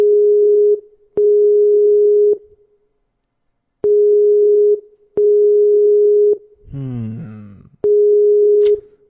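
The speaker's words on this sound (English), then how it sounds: "It's ringing." Telephone ringback tone pulses in long, even bursts with pauses. A brief voice-like sound cuts in between two rings.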